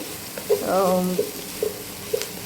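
Onions fry in a pan, cooking toward light brown, with a steady close sizzle, a few spoon knocks and stirring scrapes, and a brief tonal whine partway through.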